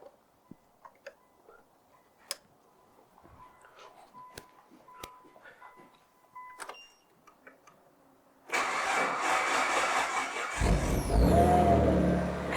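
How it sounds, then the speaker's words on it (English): An old barn-find car engine is cranked and catches, firing into a loud, steady running idle after several seconds of quiet workshop ticks and clicks, with no talking. "let's hook up the cam and crank and see if it will fire into life"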